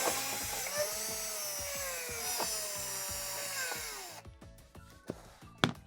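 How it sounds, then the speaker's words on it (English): A power drill backs four Torx screws out of a Whirlpool washer heater assembly, whirring steadily and close for about four seconds, then stopping into scattered clicks and handling clatter. "you're going to remove the 4 Torx screws that hold it to the cabinet"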